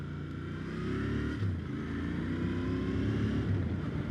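A 2020 Royal Enfield Interceptor 650 motorcycle riding, its engine giving a steady droning hum that rises slightly in pitch with throttle, heard up close from the rider's position under wind noise.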